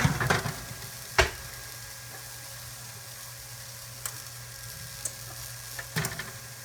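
Pineapple salmon skewers cooking, a faint steady sizzle under scattered sharp clicks and knocks as the skewers are flipped.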